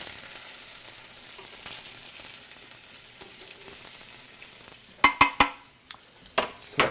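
Mushrooms frying hard in a hot pan give a steady close sizzle, then a few sharp spits and pops burst out near the end, with no one talking.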